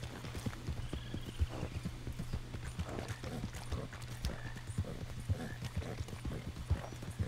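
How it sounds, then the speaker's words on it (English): Horse hooves clip-clop steadily in the video game Red Dead Online, a continuous rhythmic trot heard fairly quietly against a constant low hum, with occasional faint game sounds and no speech. "I got my horses going through."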